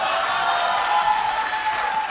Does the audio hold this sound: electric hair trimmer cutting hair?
no